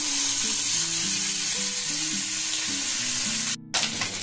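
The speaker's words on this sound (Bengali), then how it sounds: "এখন মাছগুলো একটা পিস ভাজা হয়ে গেলে তারপর আবার একটা করে আমি উল্টে দেবো।" Morola fish fry in hot oil with a loud, steady, close sizzle, briefly dipping near the end, while soft background music plays.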